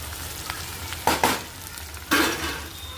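Okra with garlic and onion fries in a pan and is stirred, a steady low sizzle broken by a few louder scraping stirs.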